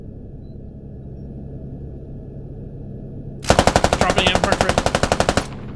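A helicopter door gunner's machine gun in a video game fires one loud, rapid burst of about two seconds over a low engine rumble, with brief player chatter before it.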